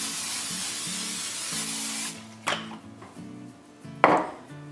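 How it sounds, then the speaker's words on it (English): Olive oil sprayed onto a cookie sheet as a continuous hiss for about two seconds, followed by a couple of short bumps and a clatter of the pan, near and moderately quiet. "I'm gonna take a cookie sheet here, and I'm gonna spray it with a little bit of olive oil"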